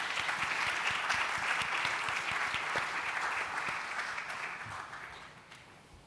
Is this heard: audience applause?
yes